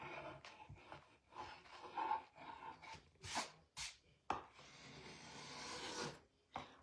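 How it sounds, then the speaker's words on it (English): Scraper dragged across the wood of a framed snowman to distress its finish, with repeated short rasping strokes in uneven bursts, fairly close and alone. "I'm going to scrape this back just a little."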